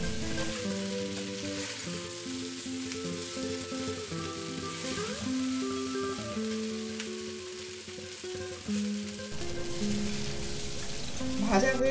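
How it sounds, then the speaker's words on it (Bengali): Leftover rice frying in a pan with sambar powder, a steady crackling sizzle beneath soft background music. "এবার সাম্বার পাউডার 1/4 কাপ দিয়ে আবারও ভেজে নিলাম।"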